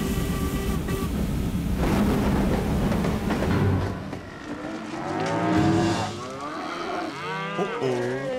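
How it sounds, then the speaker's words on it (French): A wild cow in a Western cartoon lets out loud, drawn-out moos, preceded by a rumbling rush like a train or stampede that fades before the lowing takes over. "Je dois filmer cette vache sauvage!"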